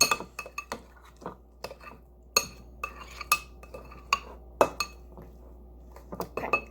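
Utensil scraping and clinking against a bowl while guacamole ingredients are mixed, a run of sharp irregular clicks and taps, close and fairly quiet, with no talking.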